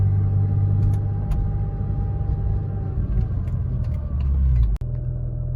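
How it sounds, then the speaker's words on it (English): A manual car rolling forward after the clutch is released, a loud steady low engine rumble with a few light clicks and knocks on top, then a brief dip before the drone resumes. "Just like that, the car's creeping forward."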